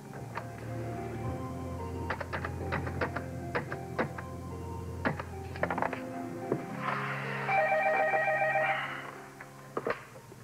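An office telephone rings in a quiet room with a repeated electronic trill, a few bursts close by with small clicks and handling noises before and after.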